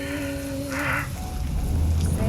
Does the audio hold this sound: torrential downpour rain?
yes